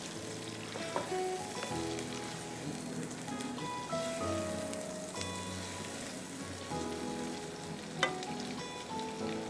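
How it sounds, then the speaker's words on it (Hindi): Chicken pieces sizzle steadily in hot oil in a pan, a dense continuous crackle and hiss with no talking and no break across the whole stretch. "दो मिनट इसको मैं फ्राई करूँगी"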